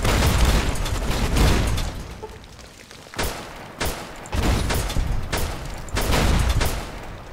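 Gunfire in Fallout: New Vegas comes as loud, close shots and short bursts separated by brief pauses, each blast booming with a heavy low-end thump.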